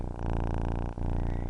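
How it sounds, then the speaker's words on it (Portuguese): A contented, relaxed cat purrs steadily up close, a low rumbling buzz with a regular pulsing rhythm and one brief break for breath, fairly quiet and alone. "O ronronar dos gatos."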